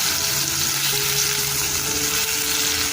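Koftas frying in hot oil, a dense, steady sizzle that holds loud and close throughout without any break or talk.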